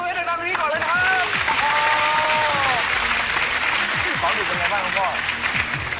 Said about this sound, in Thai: ปรบมือดังๆตรงนี้ก่อนเลยนะครับ